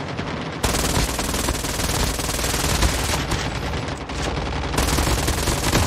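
Dense, continuous gunfire from Call of Duty Mobile, rapid automatic bursts packed together into a loud, relentless roar that barely lets up across the whole stretch, with no voices over it.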